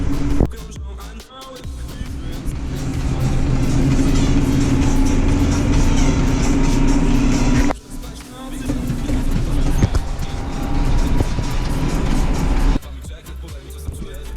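A long vehicle combination, longer than a semi-truck and hauling straw, drives on a road with a steady engine rumble and road noise. People talk throughout.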